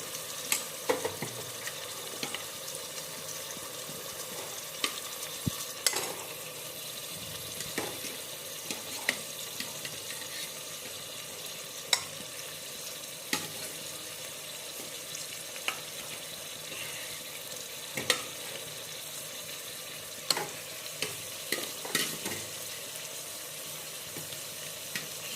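Meat frying in a pan, a steady crackling sizzle with repeated sharp scraping and clatter of stirring spread throughout, close and moderately loud, no talking.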